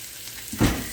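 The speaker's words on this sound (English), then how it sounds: "our grease is over here popping" Hot grease popping and crackling while fish fries in a pan, a steady low hiss swelling into a louder burst of sizzle partway through.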